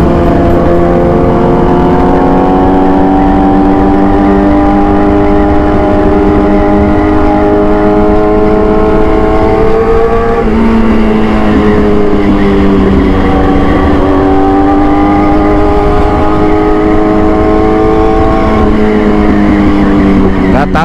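A motorcycle engine revs loud and close, its pitch climbing, dipping and climbing again in repeated throttle blips over a continuous roar.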